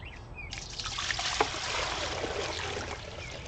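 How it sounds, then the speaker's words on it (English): Muddy water pours and trickles steadily from a bucket being shaken, a soft continuous splashing heard close by with no voices. "I'm actually seeing mud pour out."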